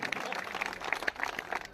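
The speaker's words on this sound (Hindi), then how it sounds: "वाह, जोरदार तालियां मोदी साहब के लिए होनी चाहिए।" A crowd claps with scattered, patchy applause at an outdoor political rally in Nowshera, heard from some distance and fairly faint throughout.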